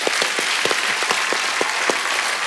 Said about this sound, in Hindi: तालियां बनती हैं भाई आपके लिए।